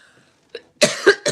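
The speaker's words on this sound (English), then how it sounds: "I'm coughing" A short throat sound, then two harsh coughs close to the microphone, with the start of another at the end.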